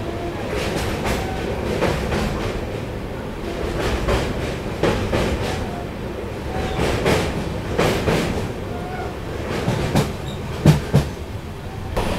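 The Kollam to Tirupati Express rolls along the rails with a steady rumble and repeated clickety-clack wheel beats over the joints, heard from on board, loud and continuous with a few sharper knocks near the end.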